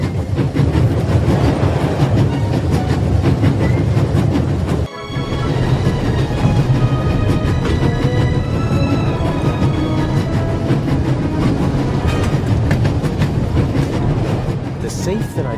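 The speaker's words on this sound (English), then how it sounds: "There's nothing quite like traveling on a train." Train travel inside The Raven: Legacy of a Master Thief Remastered, a steady loud rumble with rhythmic clickety-clack of wheels on rails running throughout, briefly dipping near the middle, with speech over it.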